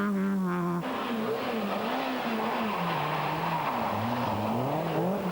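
A Peugeot rally car on a Welsh rally stage in 1995 roars loudly and close, its engine pitch climbing and falling through gear changes as it powers past, with a short burst of higher revving at the start.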